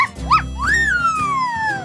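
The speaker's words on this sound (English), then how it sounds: "she acts like an actual puppy. She barks and bites." A cartoon puppy in Bluey gives a couple of high, squeaky yips and a rising then falling whiny bark, close and loud.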